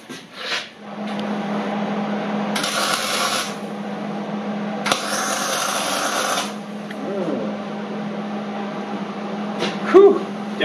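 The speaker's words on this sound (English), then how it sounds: "So I'm going to tack weld these now." Tack welding steel snow plow parts in a workshop: two bright bursts of arc crackle, each lasting a couple of seconds, over a steady low machine hum, with a short bit of quiet talk.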